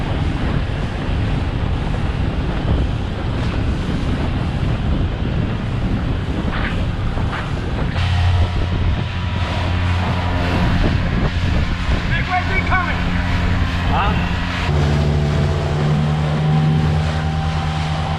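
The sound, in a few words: small boat engine at full throttle on water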